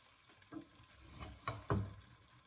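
Cooked rice being gently folded into a tomato masala gravy in a pan, with a few soft, separate stirring scrapes and a faint sizzle underneath, close and quiet.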